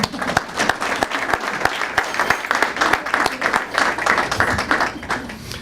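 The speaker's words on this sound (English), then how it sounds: "so give them a round of applause." Sustained applause from a crowd at a village State of the Village address, dense clapping with scattered individual claps standing out, steady and fairly loud throughout with a faint voice underneath.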